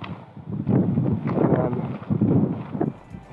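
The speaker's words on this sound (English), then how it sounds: "And it's very windy." Strong wind buffets the microphone in a steady, gusty low roar that swells and dips over a few seconds.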